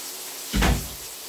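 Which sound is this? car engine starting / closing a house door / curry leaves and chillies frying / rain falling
closing a house door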